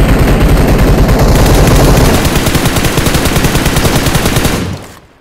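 Rapid automatic gunfire in a video game, loud and close, a sustained burst of fast repeated shots that slows to a clipped rhythm before cutting off into silence.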